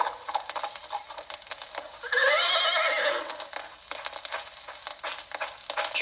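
Horse neighing in The Lone Ranger video game, one loud, shrill whinny rising and falling for about a second amid light clopping and scuffing noises.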